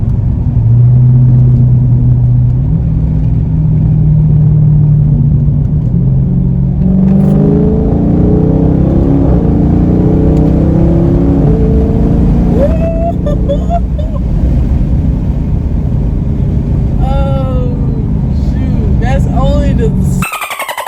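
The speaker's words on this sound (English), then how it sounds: "I'll try to roll the window down so y'all can hear the car." Dodge Charger Scat Pack engine rumbling and rising through revs on a drive, a steady low drone with climbing pitch sweeps, heard from inside the car under ongoing talk and music.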